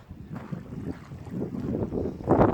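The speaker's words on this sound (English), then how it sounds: "It's very windy." Strong wind at a village lake during carp fishing, buffeting the microphone in low, uneven gusts that swell toward the end, loud and close with no speech.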